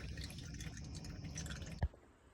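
Engine oil draining from a Nissan Skyline R34 makes a steady trickling, splashing flow. One louder drip lands near the end, then the flow drops back to a quieter hiss.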